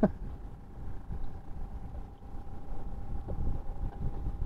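Strong storm wind with rain, during a fishing trip on the coast at Tambakrejo and Marina Semarang, Indonesia, roars and thumps against the mic in continuous low gusts, with a faint steady hum underneath and no speech.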